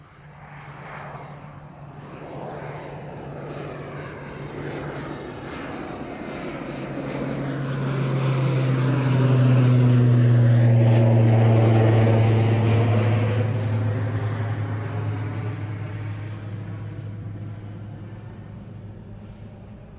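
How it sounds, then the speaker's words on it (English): Aer Lingus ATR 72-600 turboprop airliner departing an airport, steady propeller drone that swells to a loud peak as it passes and fades away over about twenty seconds, heard alone. "Aer Lingus ATR 72600 on the way out."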